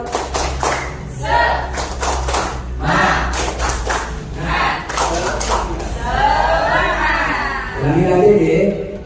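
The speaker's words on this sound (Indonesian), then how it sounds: "Mari kita tepuk semangat ya." A group at a school training meeting performs the tepuk semangat, a rhythmic clapping chant with bursts of sharp claps in a steady pattern mixed with loud chanted voices, close and lively in an indoor room.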